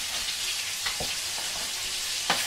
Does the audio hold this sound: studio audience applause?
no